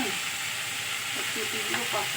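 Prawns with onion and green chilli sizzle steadily in hot oil in a home kitchen, a continuous close frying hiss with a few faint stirring scrapes.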